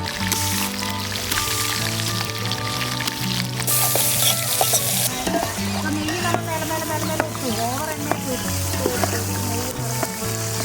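Masala frying in chicken-fried oil in a pan for Malabar chicken dum biryani, a continuous loud sizzle with stirring and scraping, heard close up under a steady background hum and some clatter.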